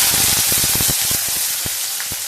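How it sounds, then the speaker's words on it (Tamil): Small onions and mustard seeds frying in hot oil, a steady dense sizzle with sharp crackling pops scattered throughout, close and loud with no voices. "பொரிஞ்சு வந்ததுக்கு அப்புறமா உரிச்சு வச்ச சின்ன வெங்காயம் அதையும் சேர்த்துக்கிறேன்"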